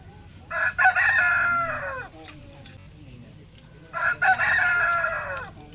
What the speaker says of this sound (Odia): ଏଠି ଦେଶୀ କୁକୁଡ଼ା ବି ପ୍ରବଳ ଅଛନ୍ତି।